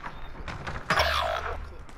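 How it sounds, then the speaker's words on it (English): A door closes during an online shooter match, a dull thunk followed by a brief rattling rush of noise, moderately quiet and set against faint background game sounds. "Who just closed a door?"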